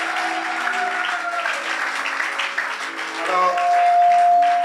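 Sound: congregation applauding in church

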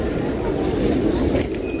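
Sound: pigeons at Boudha Stupa, Kathmandu

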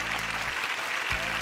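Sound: studio audience applause welcoming a guest

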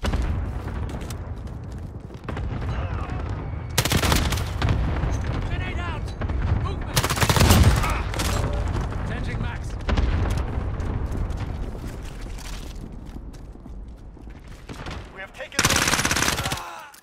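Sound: gunfire in a shooter video game

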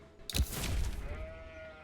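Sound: sheep bleating in Age of Empires 4 video game

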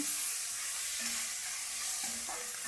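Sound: roasting spice mix with jaggery in a pan

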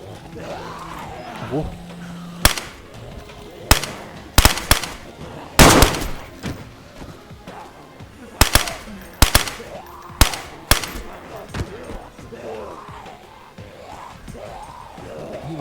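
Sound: gunshots in DayZ video game

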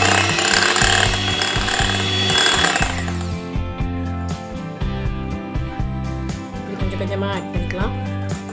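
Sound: electric beater whipping cream with icing sugar

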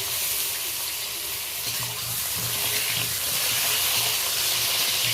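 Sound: pointed gourds (potol) frying in hot oil

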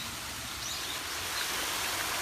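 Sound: flowing water near a cafe

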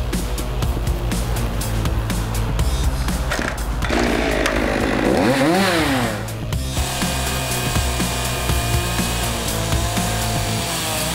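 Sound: chainsaw running

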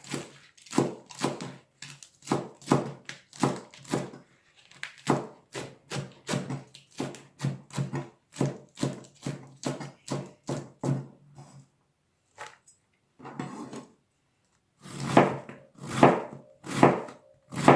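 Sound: knife shredding cabbage for fried spring rolls

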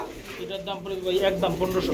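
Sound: male Baghdadi pigeon cooing

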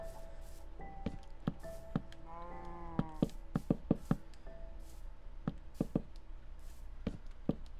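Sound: cows mooing in the video game Minecraft

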